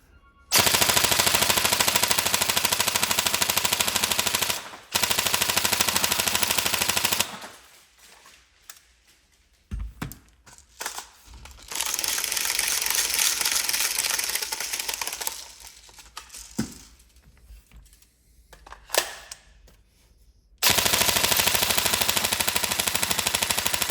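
A Tokyo Marui M4 URGI NGRS airsoft electric gun fires full auto in several long loud bursts of rapid mechanical rattling, separated by quieter pauses with faint handling clicks.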